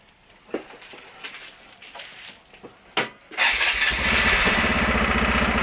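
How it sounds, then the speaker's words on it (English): A stolen Honda Grom motorcycle, not run for about a month and low on fuel, is cranked with a few clicks and sputters before its engine catches and settles into a loud, steady idle close by. "It's time to start the bike."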